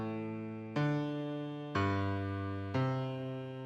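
A bass line of four sustained low notes played one after another on a keyboard-like tone, each held about a second with a sharp onset and slow decay, tracing a 3-6-2-5-1 progression in C, alone and fairly quiet.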